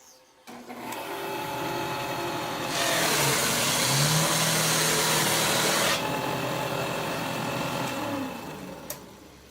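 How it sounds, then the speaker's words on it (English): A molding sander works wood trim outdoors with 120-grit paper, a loud steady motor whine that surges for a few seconds in the middle before settling back. "So I'm going to show you how this works on my molding sander outside there."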